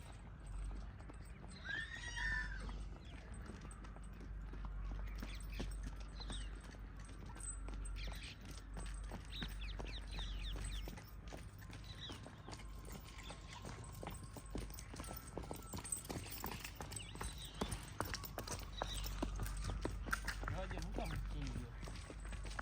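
A horse being trained, its hooves clip-clopping at an irregular pace on the ground with occasional whinnies, while people talk throughout.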